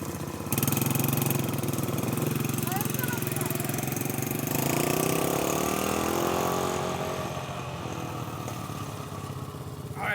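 A SuperMach 125cc four-wheeler ATV engine runs loud and close, a buzzy steady drone that rises in pitch as it revs up midway, then eases back down.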